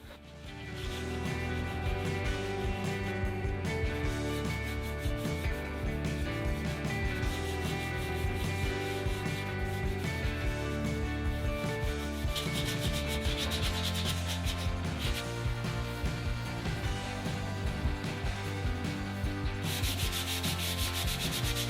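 Wood cabin surfaces are rubbed down before painting, with continuous, loud, close sanding that scrapes in steady rhythmic strokes throughout.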